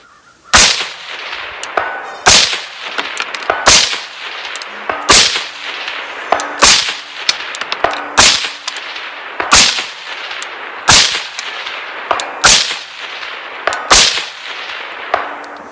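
Over a dozen loud, sharp rifle shots are fired outdoors while testing Northtac Ronin M-10 and MX3 red dot sights, in an irregular string with short pauses and faint clinks between them.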